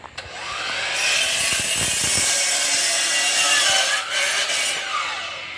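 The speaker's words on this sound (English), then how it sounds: "Go ahead, you want to cut a board?" Handsaw cutting through a wooden board while building a garage roof, a steady, loud rasping back-and-forth stroke that runs almost continuously for several seconds with no talking.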